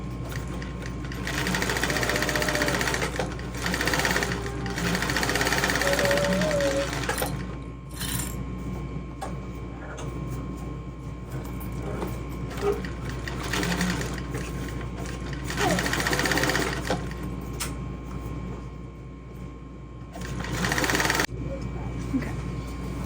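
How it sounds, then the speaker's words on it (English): A sewing machine stitches a bag in several bursts of fast, rattling mechanical chatter, close and fairly loud, with short pauses between runs and a person talking in between. "I'm gonna sew this in the direction that makes the most sense, which is just the bag hanging down"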